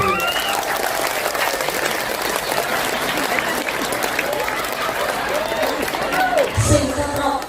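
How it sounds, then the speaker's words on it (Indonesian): An audience at an Islamic sermon in Kendal claps in sustained, dense applause that holds steady throughout, with crowd voices mixed in. "Tepuk tangan dulu."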